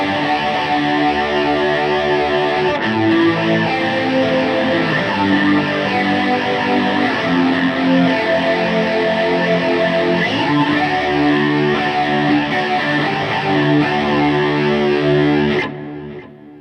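Electric guitar arpeggios through a Positive Grid Bias FX 2 Pro rock preset with an intense, fast-rate chorus plus reverb and delay, dense and shimmering with distortion, played continuously and loud before cutting off near the end.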